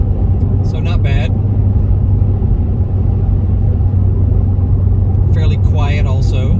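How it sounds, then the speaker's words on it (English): A Cadillac ATS-V cruises in eighth gear at 75 mph, around 1900 rpm, with a steady low engine and road drone inside the cabin and brief bits of talk near the start and end. "we're cruising in eighth gear now at 75 miles per hour, around 1900 RPMs."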